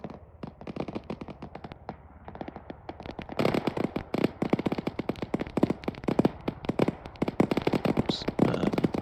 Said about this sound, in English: You can hear gunfire that way.